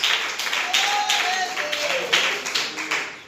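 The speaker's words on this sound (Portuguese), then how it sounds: "A igreja bate palmas para Jesus" Church congregation clapping together in steady, dense rhythm, a full room of hands with some singing or voices mixed underneath.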